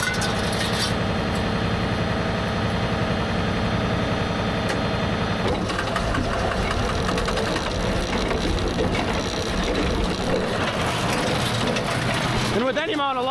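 A John Deere 14T hay baler with a repaired slip clutch starts up and runs, a loud, steady mechanical drone of engine and rotating gears that continues unbroken, with rattling and clanking throughout.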